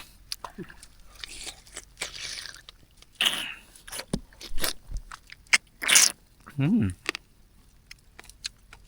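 Crispy shellfish cooked with buay being bitten and crunched up close, several sharp crackling bites spread across the stretch with chewing and brief talk between them.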